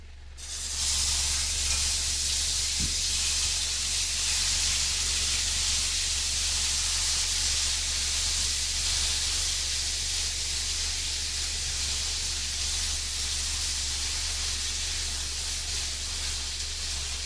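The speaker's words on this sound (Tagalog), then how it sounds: "Ipiprito lang natin ito." Food frying in oil after being seasoned with oyster sauce, soy sauce, pepper, garlic powder and onion powder, giving a steady, dense hiss of sizzling that runs continuously and evenly throughout, with no talking.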